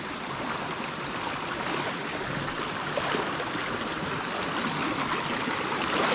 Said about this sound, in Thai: น้ำจะไหลมาจากน้ำตกนะครับตรงนี้